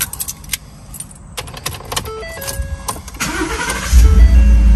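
Keys jangle in the ignition of a Ford F150, followed by a few faint chimes and the engine cranking and catching into a loud, close running rumble.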